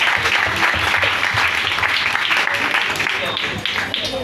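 A church congregation at a children's celebration breaks into steady, dense applause, a broad wash of clapping lasting a few seconds with voices mixed in.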